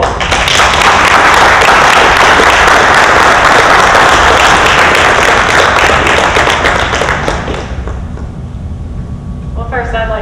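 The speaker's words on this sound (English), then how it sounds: "So we have a round of applause for all of them." Applause from the audience at a college honors forum rolls on as dense, loud, sustained clapping that fills the room and then thins slightly toward the end, with faint tones and sounds emerging underneath.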